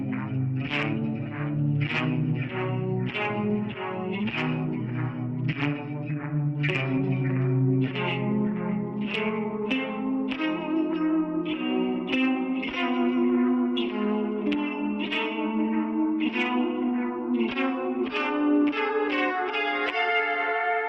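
Winding secondary melody from an arrangement of Lili Boulanger's Psaume CXXIX, a steady run of bright, reverberant notes with layered sustained harmony underneath, played alone and continuously at even loudness.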